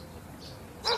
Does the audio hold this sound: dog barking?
yes